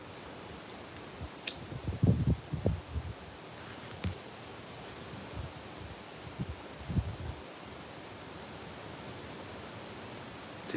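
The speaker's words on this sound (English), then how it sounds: "This wind is crazy." Strong wind blows outdoors as a steady, faint broadband rush, with a few gusty low rumbles against the microphone, alone without talk.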